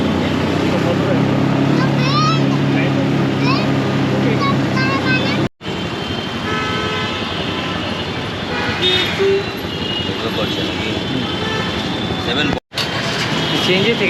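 Riding in a yellow CNG auto-rickshaw through Kolkata traffic: a steady engine drone and road noise, with short horn toots sounding nearby and people talking over the din.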